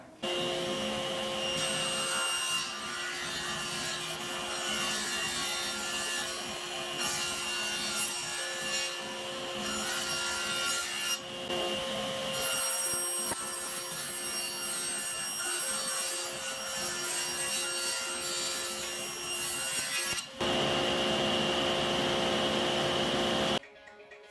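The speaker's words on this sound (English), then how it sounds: "I'm going to run one pass through, bump my fence out, and make a second pass, and that will cut the rabbet that I need on the frame" Table saw cutting a rabbet into a wooden frame in a woodworking shop, a steady loud whine of blade and motor with a sustained cutting roar lasting most of the stretch, then a brief change at the end.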